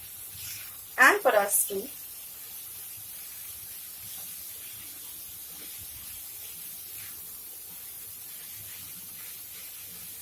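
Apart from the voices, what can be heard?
methi leaves sizzling as they are added to the pan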